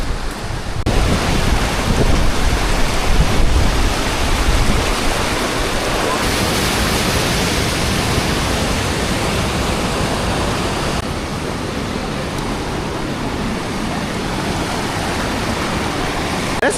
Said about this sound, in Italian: ha cominciato a piovere pesante